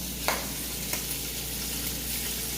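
Onion frying with bacon in a pan for green beans, a steady close sizzle with a couple of brief stirring clanks near the start, no talking.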